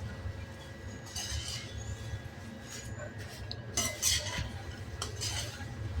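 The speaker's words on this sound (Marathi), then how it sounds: "हलक्या हाताने आपण परतून घेऊया." Metal spoon scraping and clinking against a pan as dry poha chivda (flattened rice snack) is gently stirred over low heat, irregular taps and scrapes over a low background rumble.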